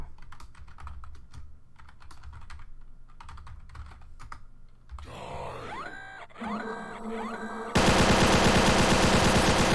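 Gunfire from the Cyborg Commando boss in a video game mod: fast, dense rattling bursts that build into a loud, harsh, continuous roar near the end.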